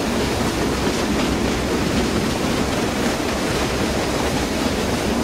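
Steady rumble of a J50 steam locomotive running on the Western Lines of Scotland in Train Simulator 2015, a continuous broadband roar with faint rhythmic rail clatter and no voices.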